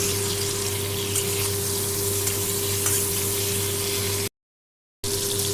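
Continuous sizzling of eggplant frying in oil with a little salt, steady and close, with a low hum beneath and a short silent gap near the end.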